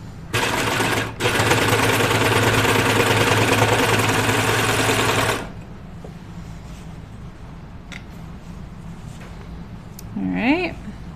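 A sewing machine stitches a pajama top in a loud, fast, rattling run lasting several seconds after a brief start and stop. A quiet pause follows, then a short voice is heard near the end.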